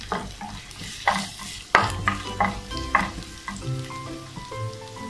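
Chopped ginger and garlic sizzle in hot oil in a pan for chilli chicken, stirred with a utensil that scrapes and clinks against the pan in irregular strokes, fairly close and moderately loud, with no talking.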